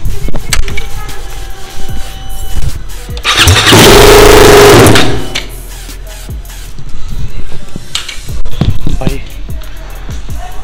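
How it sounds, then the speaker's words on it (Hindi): Royal Enfield Bullet motorcycle engine running with its exhaust removed: a few sharp mechanical clanks, then a burst of very loud, raw roaring revs for a couple of seconds, settling back to clattering and knocks close by. "एक बारी बिना एग्जॉस्ट के बुल का साउंड सुनते हैं कैसा आता है"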